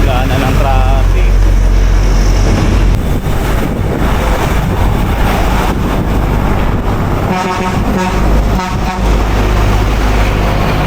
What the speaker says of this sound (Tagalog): Simula na ng traffic.